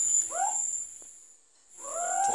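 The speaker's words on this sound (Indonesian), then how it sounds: "Berikut adalah suara-suara burung hantu ketika berbunyi." An owl calls twice at night, each hoot a short falling note separated by about a second of quiet, fairly close, over a steady high insect drone.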